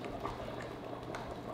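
Water bubbles at a low, steady boil in a bowl of cooking fettuccine, a soft continuous gurgle heard close and quiet with no talking.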